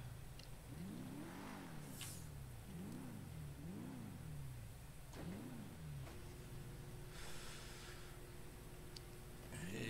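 Car engine in a roleplay-server video game revving through repeated rising and falling gear shifts, then settling into a steady drone, with faint rain-like hiss behind.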